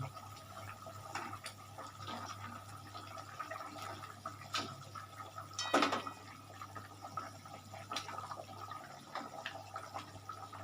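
Pieces of catla fish slipped one by one into a simmering yogurt fish curry in a pan, making soft wet plops and low bubbling, with a sharper splash near the middle over a faint steady hum.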